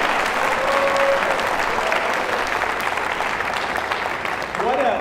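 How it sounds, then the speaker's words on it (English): An audience claps loudly and steadily at a mridangam debut recital, a dense wash of applause that carries on for several seconds with a brief voice near the end. "can you give a big round of applause to Madhav Parthasarathy and his parents"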